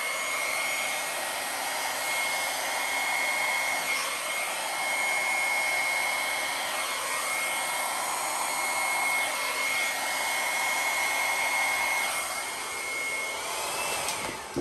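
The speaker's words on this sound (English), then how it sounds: "Just got my hair dryer on low." A small blow dryer runs on a low setting for the whole stretch, drying acrylic paint, with a steady whoosh, a constant airy hum and a faint high whine, alone and fairly close.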